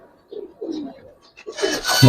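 Giribaz pigeons coo close by in a few soft, low, throaty phrases, followed by a burst of louder rustling or voice at the end.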